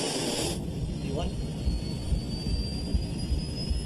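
Boeing 777 jet engines roaring as the airliner accelerates down the runway for takeoff, a steady loud broadband roar with a rising high whine, close and continuous.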